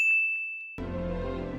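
A small bell on a cat's collar gives one clear ding that rings out, then a sudden burst of broadband noise with low rumble cuts in and carries to the end.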